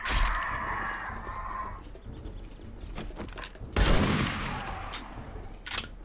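Several sharp gunshots ring out from a firearm in the survival game 7 Days To Die, loud and close over the game's ambient noise.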